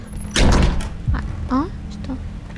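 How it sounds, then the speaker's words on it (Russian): Doors slam shut in the horror video game Apartment 1406, a heavy thud followed by a couple of fainter knocks, with someone talking over and between them. "Двери захлопнулись."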